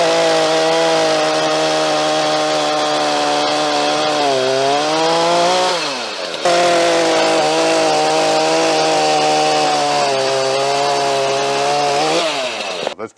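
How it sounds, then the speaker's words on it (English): A chainsaw running on E10 fuel stored for six months runs loud and close, revving high then bogging down as it bites into wood, in two long cutting passes with a short pause between. "let's cut with them to see if they've still got the grunt to be able to go through a bit of wood"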